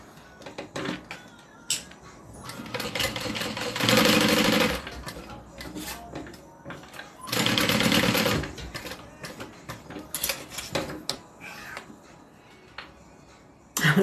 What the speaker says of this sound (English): So I'm going to sew my shoulder straps onto my